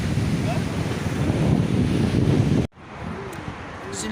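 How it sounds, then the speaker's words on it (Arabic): Wind and surf on the Rabat seashore, a loud rushing roar of wind buffeting the microphone that cuts off suddenly, then softer wave wash with a little background noise. "جنب البحر والدنيا نقية الصراحة."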